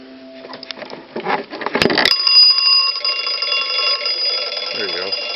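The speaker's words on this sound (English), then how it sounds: "now we're going to crank the magneto, and you can see that, well, you can see that it rings" A wooden wall telephone's bell rings loudly and steadily as its magneto is cranked, a sustained metallic jangle starting after some clatter of handling, with a brief low noise near the end.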